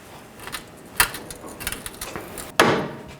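A few light taps and knocks as a new front lower control arm bracket on a 2010-16 Buick LaCrosse is driven into line, with one sharper hit near the end; close and brief, no talking.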